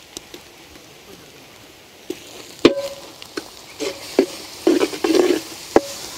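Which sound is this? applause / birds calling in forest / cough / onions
onions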